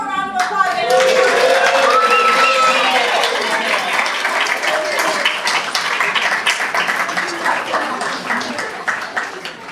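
An audience at a school board meeting applauds two kindergarten teachers and a boy named Henry. Dense, steady clapping fills the room for about ten seconds, with a few voices and whoops near the start, then it slowly thins out.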